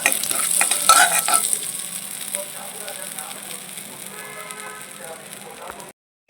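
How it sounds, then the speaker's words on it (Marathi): Cumin seeds hit melted butter in a pan and sizzle loudly. A dense crackling hiss sounds close to the pan, then eases to a steadier, softer fry before stopping abruptly. "जिरं घालू"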